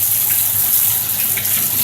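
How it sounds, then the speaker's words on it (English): Floodwater from heavy rain in Amarillo, Texas pours through a parking lot as a loud, steady rushing wash. It is broad and continuous with no pauses and no voices. "look at this river flowing through my parking lot"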